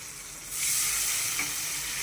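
Washed dal tipped into a hot pan with turmeric and spices and stirred, a steady loud sizzle that swells about halfway through and holds close and continuous with no talking.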